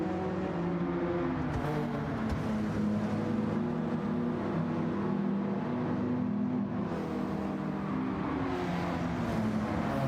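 External engine sound of a GTO in Gran Turismo 7, a sustained throaty drone with revs shifting up and down, steady and prominent throughout with no voices.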